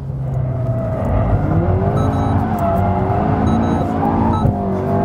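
An Alpine A110S sports car engine revs hard with rising and falling pitch, tires hissing and squealing as it slides sideways without a limited-slip differential, loud and close with no voices.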